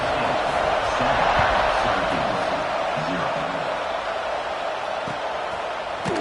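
A football stadium crowd at kickoff makes a steady, dense roar of cheering throughout, with a commentator talking over it.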